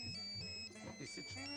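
A mobile phone rings with a repeating electronic tone, faint and a little distant, while people talk over it.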